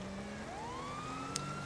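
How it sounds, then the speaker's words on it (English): A police siren from a California state police Crown Vic in GTA Online wails steadily, its tone sliding upward over a low engine hum, continuous and moderately loud with a brief click near the end. "to activate the lights and sirens, you just press on the left analog stick"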